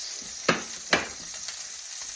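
Steak frying in a hot pan, a steady close hiss of sizzling with a few louder spits and crackles breaking through at irregular moments.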